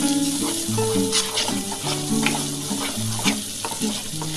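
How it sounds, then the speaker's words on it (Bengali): Spices with sugar and chilli powder sautéed in oil for an egg poach curry, a close, continuous sizzle under repeated stirring scrapes, with faint music in the background. "দিয়ে ভালো করে মশলাটা কষে নিতে হবে"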